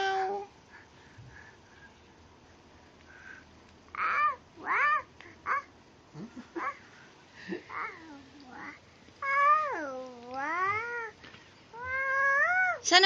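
A cat meows repeatedly, with several drawn-out, wavering cries close by, separated by short pauses and soft background sounds.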